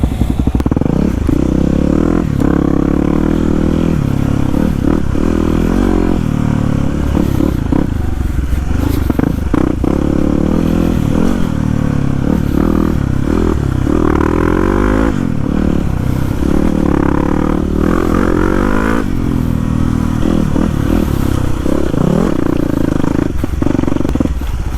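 A bike is turned around on a muddy swamp trail, with a loud, continuous low rumble, clattering and scraping, and some bursts of noise, heard up close.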